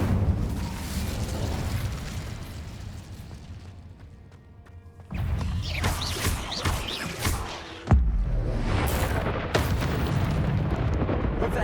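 The Incendio fire spell in Hogwarts Legacy, a roaring burst of flame and booming blasts that swell, drop away briefly, then erupt again with a sharp hit and sustained rumbling crackle.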